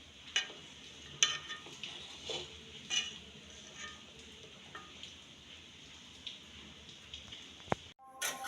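A spoon stirs black cumin paste in a pan, giving faint, intermittent scrapes and light clinks over a quiet background hiss. The clip ends with a brief dropout and no talking.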